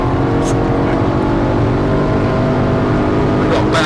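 A racing car at full throttle on the Thruxton circuit, its engine a loud, steady, dense roar that fills the whole stretch, with faint talk on top.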